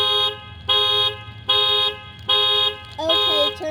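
A 2018 Lexus NX 300 car alarm blares in loud, evenly spaced horn blasts, four full cycles with short gaps, the last one warbling as the pattern shifts.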